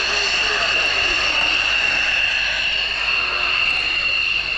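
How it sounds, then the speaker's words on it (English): A Dutch F-16 fighter jet lands with a red, white and blue drag chute at an airshow, its loud steady jet roar with a high whine sustained for a few seconds. "For now, we will performing a landing with a drag chute."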